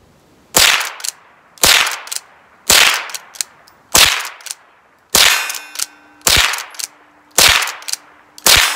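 A Rossi .22 LR pump-action rifle fires eight sharp, loud shots at steady intervals of about a second, each followed by a short ringing decay and a faint metallic clack of the action being worked between shots.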